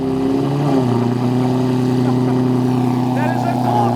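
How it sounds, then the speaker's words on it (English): A V12 car engine just after a cold startup, a loud, steady idle with a low droning tone and a slight shift in pitch early on, running continuously without talk. "That is a cold startup on the straightaway from Chicago."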